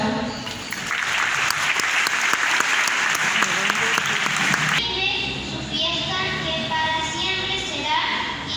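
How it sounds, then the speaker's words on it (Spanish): Schoolchildren and adults clap loudly as the flag is retired during a 9 de julio school ceremony, busy close applause that breaks off midway into a voice and other talk. "La despedimos con un fuerte aplauso."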